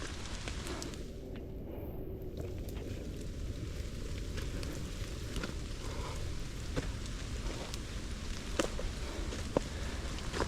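Steady rain falls during a mountain hike in a rainstorm, a continuous close hiss with some wind rumble and occasional drop ticks, with no talking.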